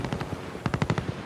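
Video game gunfire: rapid automatic bursts of sharp shots, a short uneven volley followed by a tighter run of about six quick rounds, close and loud with no talking.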